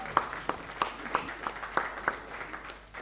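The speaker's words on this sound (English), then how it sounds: "Please applaud." Applause at an education summit felicitation ceremony, a modest audience giving sparse, distinct claps in a loose rhythm, fairly near and moderately loud, gradually thinning out.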